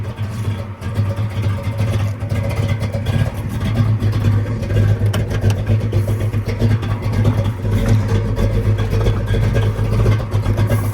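A Ford Mustang Fastback engine rumbles steadily with a deep, throaty tone, running loud and close throughout without clear pauses.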